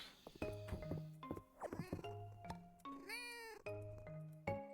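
Several short, close meows from a cat in the farming life-sim game Fields of Mistria, spaced through the clip alongside soft game sound effects and music.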